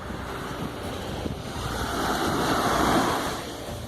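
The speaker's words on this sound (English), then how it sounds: "enjoy the beautiful sea and the sound of the waves" Ocean waves on the coast of Crete, Greece roll and surge steadily, swelling louder midway, with wind buffeting the microphone and no voices.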